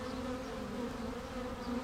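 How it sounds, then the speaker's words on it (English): Honeybees hum around a hive box in a steady, continuous close buzz that holds an even drone throughout, with no voices. "what I'm waiting to see is if the bees come out of that hole and start fanning"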